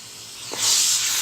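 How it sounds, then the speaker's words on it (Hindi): Mashed pumpkin halwa frying in ghee over high heat gives a loud, steady sizzling hiss that swells after a brief clink, close up and alone. "तो अब इसको हम तेज़ आग करके इसको भुनेंगे ताकि इसका जो घी है वो सालन में घी छोड़ दे"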